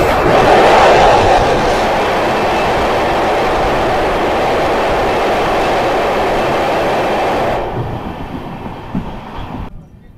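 The Sairang–Kolkata Express rumbles steadily over bridges and through tunnels in a loud, sustained roar of wheels and carriages. The sound is heard from inside the train and eases toward the end.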